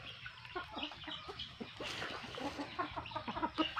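Chickens on a small farm, including Rhode Island hens, cluck in soft, irregular bursts close by, a busy chorus of short clucks that continues steadily with no talking.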